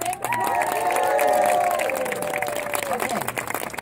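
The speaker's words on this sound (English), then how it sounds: "so give a big round of applause." Audience applause at an ACTFL language-teaching conference gathering, heard as a sustained wash of clapping and cheering from a crowd, with voices and ringing tones layered over it throughout.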